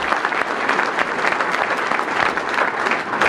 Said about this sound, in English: Let's give him another round of applause for his great leadership for our Republican Party